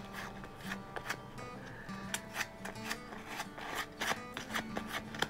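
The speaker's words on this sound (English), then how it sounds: "we're gonna go ahead and just kind of sand that up a little" A painted wooden bee decoration is sanded by hand in close, steady, rhythmic rasping strokes, quiet and with no talking.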